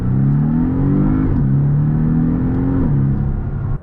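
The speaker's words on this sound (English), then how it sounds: "a 4-cylinder turbocharged engine." A turbocharged four-cylinder sports car engine revs loudly and steadily, its pitch climbing and dropping in a few smooth sweeps before cutting off abruptly.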